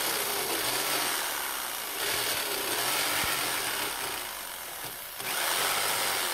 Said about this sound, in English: we just notch out a series of small cuts with the